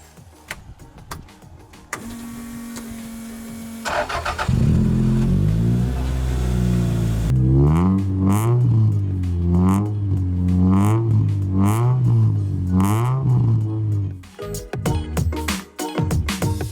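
A rally car with a 2-litre engine cranks and fires up, then revs loudly and repeatedly, the pitch climbing and falling in waves before the engine settles and cuts out.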